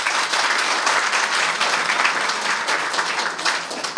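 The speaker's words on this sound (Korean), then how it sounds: "그러면 모든 분들 찬성하시면 박수로." A general assembly of a Korean-American association claps together to approve a motion, a dense, steady burst of applause sustained throughout without speech.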